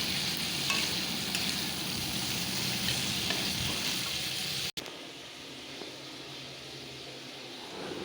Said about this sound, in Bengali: মাছের তেল দিয়ে ভাত ভাজা করে দেবো